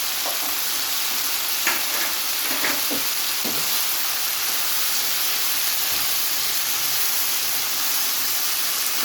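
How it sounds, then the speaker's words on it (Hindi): Onion, capsicum and other vegetables sizzle in a hot pan for chicken jalfrezi, a steady loud hiss with a few clinks of stirring, no talk. "अब हम इसके अंदर डालेंगे वेजिटेबल सब्जियाँ, प्याज,"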